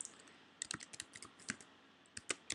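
Quiet keystrokes on a computer keyboard come in short irregular bursts as details are entered into an online account signup form, close and faint, with no voices.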